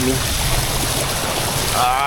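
Loud, steady rush of flowing water from a stream during flooding in Legazpi City, continuous and close throughout with no pauses.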